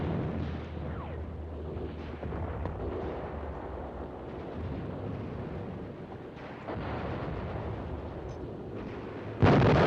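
A bridge being blown up in a 1952 film makes deep, rolling explosion rumbles with scattered blasts and crackles, fairly distant and muffled, ending in a sudden loud burst.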